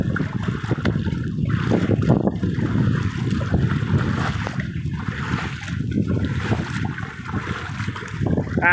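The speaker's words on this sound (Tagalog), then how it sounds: "Ang lakas ng alon." Heavy, continuous rush of surf and wind, with waves surging and splashing close by at a steady loud level.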